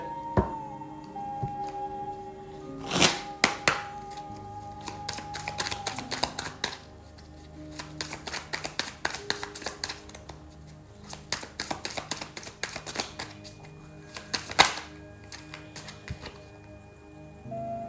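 Tarot cards are shuffled by hand in quick flurries of papery clicks and flutters, separated by short pauses, close and fairly quiet, with no speech.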